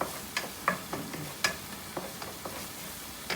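Ingredients browning in a pan for red Thai pasta make a soft continuous sizzle close by, punctuated by light irregular scrapes and taps of a utensil stirring against the pan.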